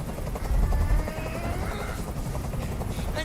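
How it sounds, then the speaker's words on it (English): A helicopter hovers overhead in the video game Detroit: Become Human, its rotor a loud, continuous thudding drone over a rumbling backdrop, with no talk. "Tell that helicopter to get out of here."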